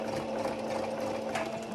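Sewing machine running a steady straight stitch along the hem of a knit sweater-dress, a continuous close whir with a constant motor hum throughout.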